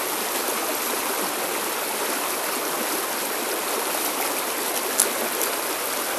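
Salmon Brook, a small river stream that flows into the Farmington, rushes and burbles in a steady, dense wash of moving water, close and continuous, with no voices heard.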